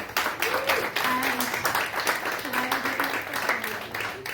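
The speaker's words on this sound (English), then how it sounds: "why don't you give yourselves a round of applause" At a teacher awards benefit, an audience applauds with fairly quiet, uneven clapping while people talk and call out over it throughout.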